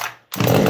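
A chainsaw starts: a brief tool noise, a short pause, then the engine catches and roars loudly and close.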